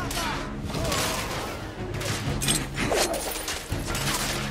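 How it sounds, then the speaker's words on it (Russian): Dense, sustained gunfire fills a firefight in The Order: 1886, with overlapping rapid shots and crashes, plus a voice briefly heard beneath the barrage. "Я под обстрелом!"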